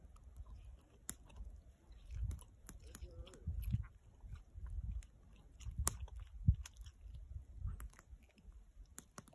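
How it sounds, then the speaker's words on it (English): Someone chews meat close up, with quiet wet biting and mashing sounds in uneven bursts, plus occasional faint clicks in the background. "to be able to sit there and chew that meat"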